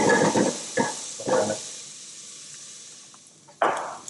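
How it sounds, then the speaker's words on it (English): Onions, garlic and chili sweating in a pan give off a steady close hiss with soft scraping stirs at intervals, then a fresh burst of sizzle near the end. No one speaks. "The first process, onions, garlic, chili, sweat down,"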